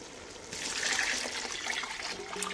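Water pours steadily into a pot of fried nopales with chile, a continuous close splashing trickle that swells after a brief start and runs on alone.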